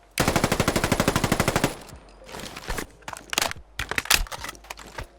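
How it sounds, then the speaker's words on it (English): QBZ-191 assault rifle fired in a Fallout 4 mod: a rapid full-auto burst of sharp, evenly spaced shots, then a string of mechanical clacks and metallic clatter as the magazine is swapped and the action is worked. "we'll go ahead and do the reloads with this rifle, starting with the standard half-empty reload"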